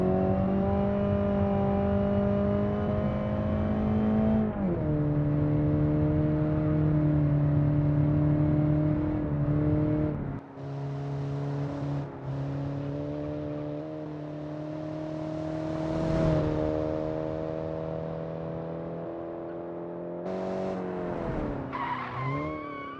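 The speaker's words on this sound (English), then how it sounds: "all of these drifts and slides you see" A video game car in an Automation campaign drifting and sliding, its engine note holding steady, then dropping and shifting while tires squeal. The sound is continuous and fairly loud, with sharp pitch swings near the end and no voices.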